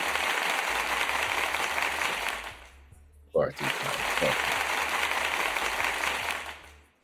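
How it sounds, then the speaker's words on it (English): A crowd at a live rotation set at Port Vale applauds in a dense, sustained wash that briefly drops away in the middle and then surges back, with someone talking over it. "Round of applause for you."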